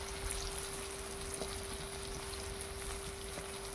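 Teasel gourd frying in a pan for lunch, a continuous quiet crackling sizzle with faint pops and a steady hum, no talk.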